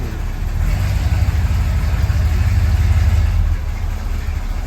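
A big block Chevy V8 in a Squarebody Chevy truck, just back together after an oil pan gasket job, rumbles steadily at idle close by, a loud continuous low drone with slight rises and falls and no talking.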